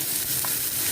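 Chicken sizzles on a grill pan, a soft, steady frying hiss with no voices.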